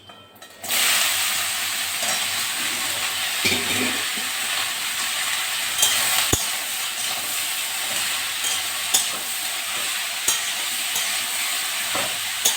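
Bottle gourd dropped into a hot pan for lau posto, bursting into a sudden loud sizzle that settles into a steady hiss, with occasional sharp clinks and stirs.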